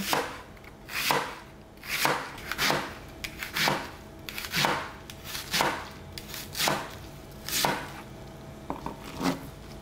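A knife chops through vegetables on a cutting board with diagonal cuts, ingredients for canh chua sour soup: about a dozen crisp, evenly spaced thuds and clacks, close and clear, with no talking.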